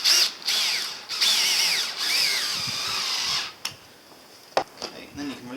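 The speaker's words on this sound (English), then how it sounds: "So I'm going to go ahead and put the screw in." Power drill driving a screw into a clamped, glued wooden bench seat for a camper van conversion, a loud whining burst in several pulses with short pauses, then quieter handling knocks at the end.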